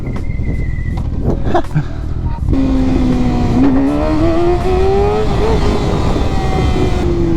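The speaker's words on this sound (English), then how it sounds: "there's a bunch of cars coming" Cars pass close by on a road, loud engine drone rising in pitch as they speed up, with a rough, continuous roar and a short whine early on.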